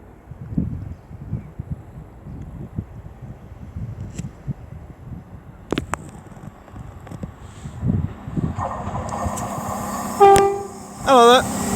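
CrossCountry train 221121 on the Manchester Piccadilly to Bristol Temple Meads service draws into Ashchurch for Tewkesbury station. A low rolling rumble builds steadily, then sharp tonal horn blasts and high metallic squeals ring out near the end.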